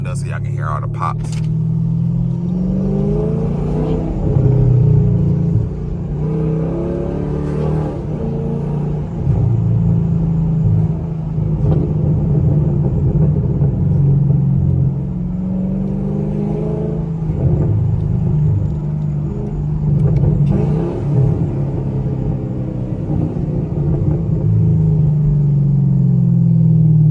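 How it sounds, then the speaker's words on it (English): A straight-piped 2017 Chevrolet Camaro SS rumbles loudly through the window while driving at night, with engine swells and scattered exhaust pops across the stretch, and someone talks over it at times. "Let me open the window so y'all can hear all the pops."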